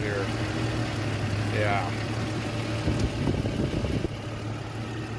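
A 1989 Jeep Comanche Eliminator, warmed up and smoking, idles with a steady low engine drone under brief talk.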